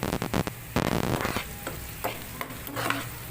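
Finely chopped onions hitting hot oil in a pan for baingan ka bharta, sizzling loudly with bursts of stirring and scraping, then settling into a steady fry with intermittent clatter.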